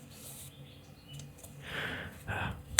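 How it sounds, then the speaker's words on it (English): A bird calls loudly outdoors in bursts of high chirping, heard from indoors through a closed window against a quiet room background. "there's a bird spazzing out outside. It's very loud."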